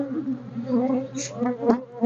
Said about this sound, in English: Seem to be a lot of bees.